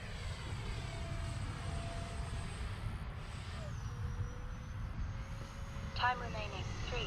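An FLYFANS K-8 Red Falcon RC model jet flies at a model airfield, its steady whining turbine rush holding throughout, with a faint tonal sweep shifting midway.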